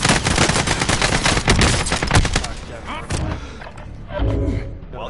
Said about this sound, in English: That is the worst AK I've ever seen in this game